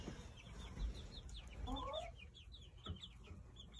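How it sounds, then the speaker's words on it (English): Small chicks of mixed, unknown breeds, given as hatchlings, chirp in soft, high, repeated peeps inside a coop, with scattered quiet clucks and low rustling noise underneath. "we have some little chicks that one of the teachers at Northwestern was able to give us when they hatched their chickens from their eggs"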